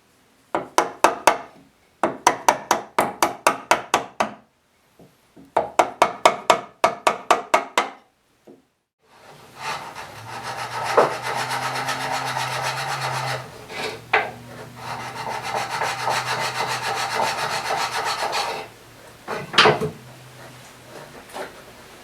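Wood being worked by hand with Harbor Freight carving chisels on a log, heard as close bursts of quick rhythmic rasping strokes, then a longer stretch of steady scraping with a few sharp knocks.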